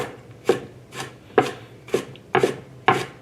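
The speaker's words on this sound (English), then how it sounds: "I'm gonna cut a couple more slices" A knife slices through a tender-skinned Asian eggplant on a board, making six evenly spaced, crisp cuts roughly half a second apart, close and clear with no talking.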